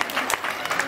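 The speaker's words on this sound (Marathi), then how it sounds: "एखाद्या तर टाळी वाजवा" Brief burst of audience clapping at a Home Minister Paithani game show event in Lonikalbhor, a short crowd applause at close range with a few sharper claps standing out.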